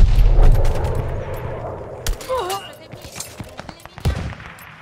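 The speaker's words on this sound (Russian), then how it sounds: "Ничего себе, она стреляет, эта пушка" Gun firing in the video game Call of Duty Vanguard, a heavy blast at the start followed by scattered sharp shots and booms at irregular intervals, with a voice speaking in between.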